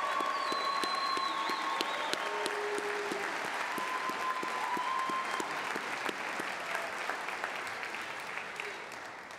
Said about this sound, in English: Just one more round of applause for the graduates.